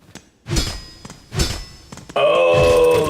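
Rosary cannon firing in the video game Silksong: two dull, thumping launches about a second apart, then a loud, sustained ringing metallic burst to the end.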